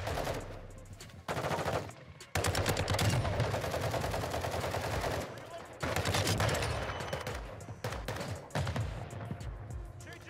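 Shotgun fire in the Modern Warfare 2 video game, heard as loud blasts in clustered bursts with brief pauses between volleys, close and dominant, with a voice talking faintly underneath.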